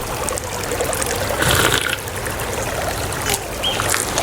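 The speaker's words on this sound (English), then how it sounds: "Probably not the healthiest water, but it's water." Water trickling and splashing softly in the survival horror game Sons of the Forest, a light steady pour with brief louder splashes.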